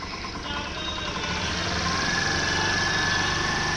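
A small scooter engine runs steadily nearby with the throttle held low, a constant rumbling hum with a faint high whine that doesn't change much.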